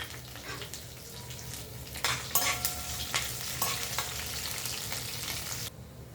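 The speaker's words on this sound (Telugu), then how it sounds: "ఎండుమిరపకాయ, జీలకర్ర, ఆవాలు, 2 వెల్లుల్లి రెబ్బలు వేసుకోవాలి. ఆయిల్ వేడెక్కింది కదా," Dried chillies, cumin, mustard seeds and garlic crackle and sizzle as they drop into hot oil, with a burst of spattering and stirring that settles into a steady fry before cutting off abruptly.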